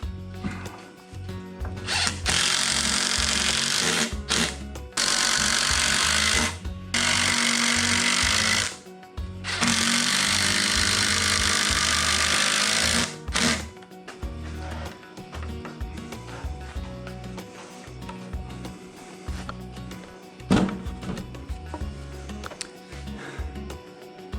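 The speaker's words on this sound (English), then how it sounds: "Now I want to flip this on its end and get the long screws underneath." A power drill driving long screws into a wooden range hood framework, several sustained loud whirring runs separated by brief pauses, followed by lower handling noise and thumps of the wood.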